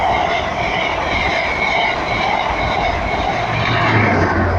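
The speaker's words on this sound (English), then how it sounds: "Next service pass through is a HST service" An HST high-speed train runs through Northallerton station, a loud, steady roar of wheels and carriages rushing past close by, with a faint squeal creeping in near the end.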